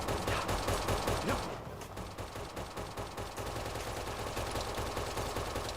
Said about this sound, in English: I've been hit by a turret.